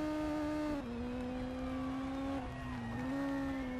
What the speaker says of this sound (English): I know I'm punishing the poor engine, but it can take it.